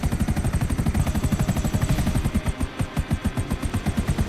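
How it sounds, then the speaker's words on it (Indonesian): A rocket-damaged, smoking video-game helicopter labouring to stay airborne, its rotor beating in a steady rapid thump with a harsh engine whine on top, loud and close throughout with no voices. "helikopter gua berusaha banget ini guys untuk terbang, tapi mesinnya udah bener-bener hancur"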